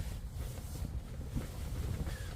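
Steady wind buffets a car-roof camp on the east coast of Scotland, a low rumbling roar of gusts against the microphone, continuous and fairly loud with no voices.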